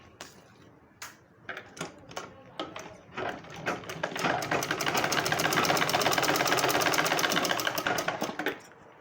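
Tucks in a blouse are stitched on a sewing machine: a few short starting pulses build into a continuous, steady run that fades out at the end.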